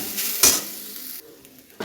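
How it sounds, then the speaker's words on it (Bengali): Grated coconut stir-fried in a little oil in a wok, a steady sizzle broken by a few sharp stirring scrapes and bursts, close and moderately loud with no voices. "একটু ভাজা ভাজা করে নিয়ে নেব"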